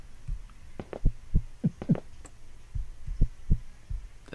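A heartbeat in the horror video game One Late Night thumps in a steady, heavy rhythm of low pulses, some paired, close and prominent, with no voices over it.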